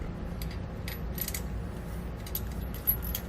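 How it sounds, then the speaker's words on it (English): Small metallic clicks and light clinks as a flat washer and lock nut go onto the upper bolt of a Roadmaster rear anti-sway bar on a 2017 Ford F-53, faint and close over a steady low background hum. "Then we're going to place on a flat washer on the upper with a lock nut"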